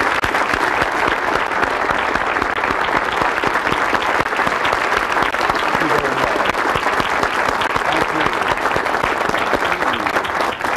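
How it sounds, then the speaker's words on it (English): A large audience at a motivational seminar gives a dense, continuous round of applause that holds at full strength for about eleven seconds, broad and roomy with no distinct voices above it. "Let's give Zig one more well-deserved round of applause."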